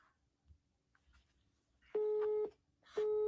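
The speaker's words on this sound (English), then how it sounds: "How the hell can a cell phone come back as busy?" A telephone busy signal on a call placed to a cell phone: two loud, steady tone bursts about half a second each, separated by a pause, after a quiet stretch with faint background noise.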